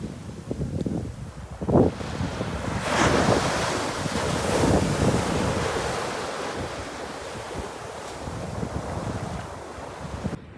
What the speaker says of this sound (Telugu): సో ఇది మకీనా బీచ్ అనమాట